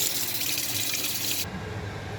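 Fish are rinsed under a running kitchen tap while okra soup is prepared, a steady loud hiss of flowing water that cuts off abruptly partway through, leaving a quieter background.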